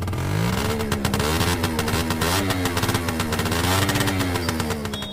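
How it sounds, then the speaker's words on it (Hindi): A cartoon scooter engine revs up steadily, its whine climbing and wavering in pitch as it accelerates, loud and continuous for about five seconds with no talk. "और फिर बुल्ली स्कूटर को थोड़ा और तेज कर देता है।"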